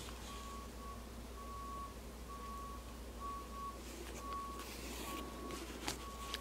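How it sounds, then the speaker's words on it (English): A truck backing up in a front yard gives a steady series of evenly spaced reversing beeps, about eight in six seconds, audible at a moderate distance over a low engine rumble and background hum. "Some truck is backing up in the front yard."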